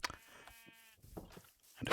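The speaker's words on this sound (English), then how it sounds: "And a sheep." A sheep in a Minecraft farm gives a single wavering bleat at moderate volume, surrounded by soft game noises and a loud burst at the end.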